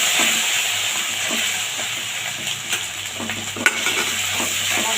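Spice paste with turmeric fries in a pan for a fish head and taro leaf dish, giving a continuous hissing sizzle broken by scraping stirs and one sharp knock near the end.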